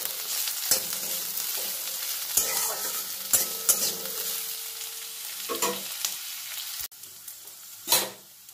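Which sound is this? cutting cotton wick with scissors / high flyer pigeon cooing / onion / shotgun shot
onion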